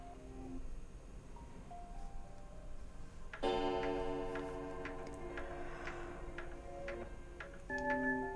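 In the video game Slay the Alice, a clock ticks faintly under a quiet ambient bed. A sustained musical chord enters partway through, with soft ticks continuing alongside it.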